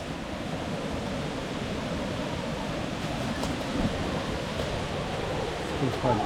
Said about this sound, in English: It's coming close to one of the swimming holes and little waterfalls.